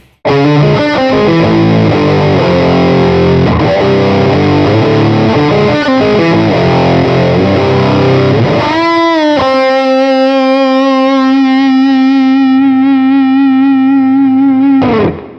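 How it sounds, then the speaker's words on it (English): An electric guitar through a Fuzz Face distortion modeled on an Axe-Fx II, set to a low clip value, plays a gritty riff, then holds a single sustained note that rings out before cutting off. "Here's the FuzzFace with a low variable clip value."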